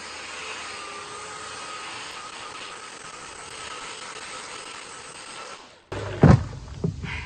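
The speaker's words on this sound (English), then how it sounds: "the belt sander is my favorite tool. I love a good belt sander." A belt sander runs on reclaimed wood with a steady, loud droning roar for several seconds, then cuts off abruptly, leaving a couple of close thuds and knocks.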